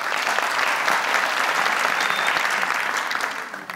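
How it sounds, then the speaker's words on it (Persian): An audience applauds on a televised Family Feud–style game show, a steady, loud wash of clapping that keeps going for several seconds before starting to thin out at the end. "دوستا تشویقشان کنه."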